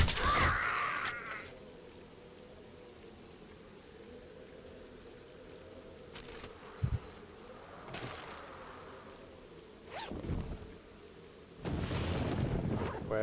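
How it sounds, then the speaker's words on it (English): Thunder rolls through a storm in 7 Days to Die, heard as a few scattered rumbling cracks over quiet rain-like ambience, with a longer, louder roll near the end. "Thunder."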